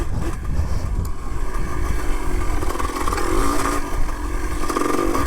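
A three-wheeler motorcycle's engine roars loudly and continuously during a third-gear wheelie. It is close and gritty, with a steady high-revving drone and no pauses.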